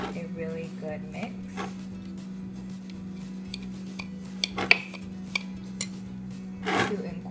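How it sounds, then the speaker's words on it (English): A butter knife clinks and scrapes against a dish while mixing cuttlebone and eggshell powder, a few sharp taps standing out over a low steady hum. "I'm gonna take a butter knife and I'm just gonna give everything a really good mix"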